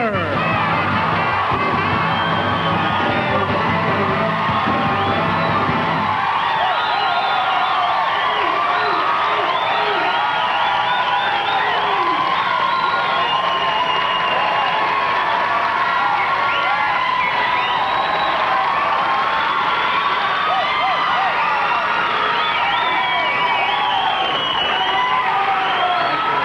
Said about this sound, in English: Thank you for that unsolicited applause.